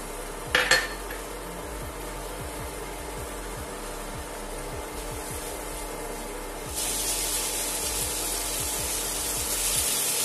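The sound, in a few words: tomatoes added to a pan on the gas stove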